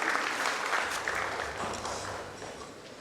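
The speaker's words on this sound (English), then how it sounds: "Round of applause for Deepak Kapoor" An audience at a Mumbai government event applauds Deepak Kapoor, CEO of the Slum Rehabilitation Authority, with steady, full clapping that slowly tapers, heard from a little distance.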